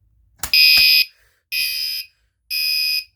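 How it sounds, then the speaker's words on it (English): A building fire alarm system set off during a test, sounding three loud electronic horn blasts of about half a second each at a steady rhythm, preceded by a couple of clicks. "we're gonna go ahead and set off the fire alarm"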